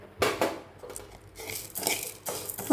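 Red rice and green gram are roasted in a cooking pot, making a few dry rattling, scraping clatters of grains stirred against metal that come in irregular bursts, fairly close, with no talking.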